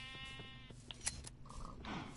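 Sheep bleating in the video game Minecraft, a few short in-game bleats over a low background hum of game sounds, with no talk.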